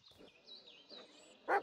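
A dog called Bullet in the Blair Witch video game gives a single short, fairly loud bark near the end, after a stretch of quiet ambient forest tones.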